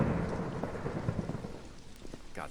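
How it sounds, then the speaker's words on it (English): Thunderstorm in a horror video game: steady heavy rain with a deep rumbling roll of thunder underneath, continuous and fairly loud, with no voices. "hopefully those lightning strikes aren't too loud"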